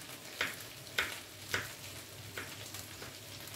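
Chicken and black mushrooms fry in oil with a low, steady sizzle, marked by a handful of brief crackling pops spaced about half a second apart, close and fairly quiet, with no talking.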